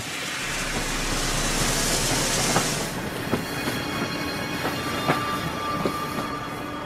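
A train rolls along rails in a continuous loud rumble and hiss, with a brighter rushing wash early on and then regular clicking wheel beats over the joints.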